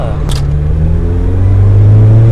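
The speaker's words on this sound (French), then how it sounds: "avec le filtre air, on entend mieux l'admission aussi" The 1.8-litre four-cylinder engine of a 2003 Mazda MX-5 NB revs up under acceleration, intake droning as its pitch rises steadily, loud and close from inside the convertible.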